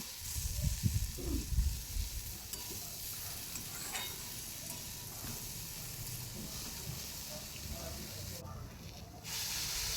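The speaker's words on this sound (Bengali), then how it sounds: "মসুর ডাল দেওয়ার পর 1 থেকে 2 মিনিট মতন আমি এটা ভালোভাবে একটু ভেজে নেব" Washed masoor lentils frying in a pan for a Bengali banana-flower dal: a steady, soft sizzle and hiss with some stirring scrapes and bubbling near the start.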